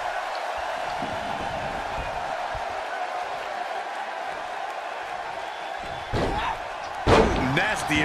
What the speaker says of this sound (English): Nasty impact. What a stomp.